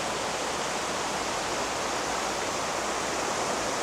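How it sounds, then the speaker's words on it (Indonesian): A river flows steadily at a campsite, a dense, even rushing of water that fills the scene without pause and with no voices. "Menikmati aliran sungai."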